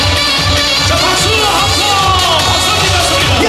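An outdoor crowd at a local town-day festival concert claps and cheers loudly and continuously, a rhythmic beat of clapping under shouting voices and music.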